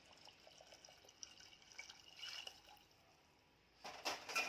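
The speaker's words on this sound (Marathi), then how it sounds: "गरम केलेलं पाणी घालून घेत आहे" Heated water poured into chicken curry masala base for a rassa gravy, a faint pouring trickle that swells into a louder splashing gush toward the end.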